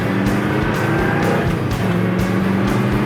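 A Ford Mustang GT coupe with a close-ratio top loader gearbox accelerating hard through the gears: a loud, close V8 roar that rises in pitch, drops with each quick shift and climbs again.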